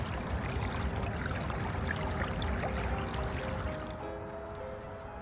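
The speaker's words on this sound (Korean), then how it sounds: "도심 속 숲 개울에서 맑게 흐르는 물소리가" Clear water flowing in a small forest stream in an urban woodland park in Seoul, a steady close trickle and burble running alone with no voices, easing slightly toward the end.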